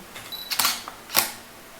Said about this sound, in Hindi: और फोटो क्लिक हो गया।